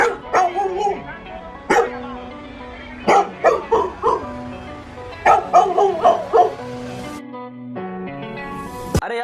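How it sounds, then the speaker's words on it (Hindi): Dog barking in irregular clusters of short, sharp barks with brief pauses between groups, fairly close and moderately loud. "िमी, मैं देख तेरे को रोज 2 बिस्किट खिलाऊंगा, लेकिन जब भी मेरी गर्लफ्रेंड घर पे आए ना तो उस पे भौंकेगा नहीं, ठीक है?"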